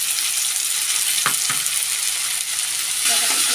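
Ginger garlic paste and onion frying in oil in a pan for a vegetarian dish, a dense, loud sizzle held steady throughout, with a couple of soft stirring knocks.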